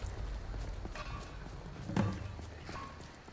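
Hooves of a horse in the game Skyrim clop in a loose, uneven rhythm at close range, muffled thuds over a low rumbling background with one heavier strike near the end.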